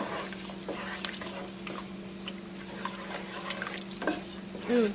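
Shrimp with a Scotch bonnet pepper broken in half is stirred in a pan, giving soft scrapes and scattered clicks over a steady low hum, with a brief voice-like sound near the end.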